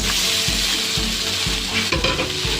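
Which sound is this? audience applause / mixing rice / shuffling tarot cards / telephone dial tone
mixing rice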